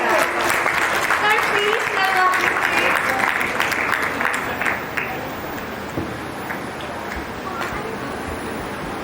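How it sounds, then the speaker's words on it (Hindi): An audience on stage applauds to welcome a chemistry teacher at a Teacher's Day event, a loud dense clapping that fades a little toward the end while a voice speaks over it. "तो जोरदार तालियों के साथ स्वागत करिए हमारे शुभम सर का।"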